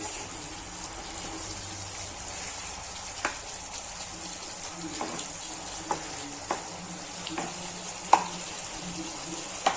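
Stuffed bitter gourds fry in masala in a pan, giving a soft continuous sizzle broken by a few sharp pops and occasional stirring scrapes.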